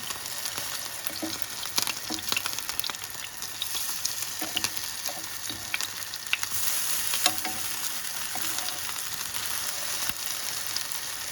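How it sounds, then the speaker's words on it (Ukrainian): Ukrainian potato pancakes, deruny, sizzle steadily in a frying pan, a dense close crackle punctuated by soft clicks and taps as they are turned, without any talking. "Підрум'янилась одна сторона наших дерунів, перевертаємо їх на іншу сторону"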